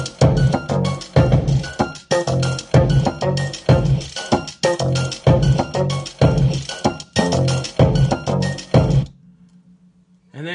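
Homemade beat built from thumps on a cardboard box and crinkles of a paper bag, a steady looping rhythm of punchy low hits and bright rustling clicks, loud and close, stopping abruptly near the end with a faint low hum left.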